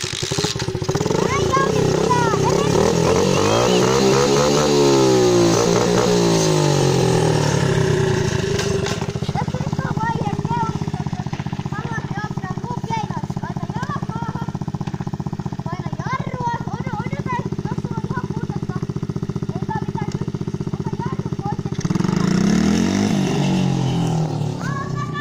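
A motorcycle engine revs in rising and falling sweeps ahead of a wheelie, settles into a steady idle, then revs hard again near the end. It is loud and close throughout.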